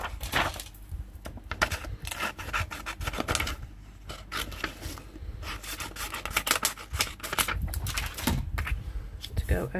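Paper is cut and handled for card making, giving repeated close scraping and rubbing strokes in uneven bursts, with a person talking intermittently.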